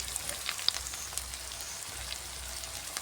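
Spice paste fries in a pan with a soft, even sizzle, fairly quiet, broken by a few faint pops and ticks.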